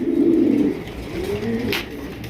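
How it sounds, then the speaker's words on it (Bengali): A pair of large cream-barred pigeons at a pigeon sale, giving a loud, close, low throaty coo that swells and then falls, heard alone with no talk. "ফার্স্ট টাইম এত বড় সাইজে একজোড়া ব্যাক কবুতর দেখতেছি"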